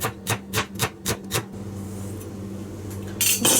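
Onions sliced thin with a knife on a board for a traditional Kerala anchovy and coconut dish: six quick, evenly spaced chops close by, then a quiet stretch with a faint clatter at the end.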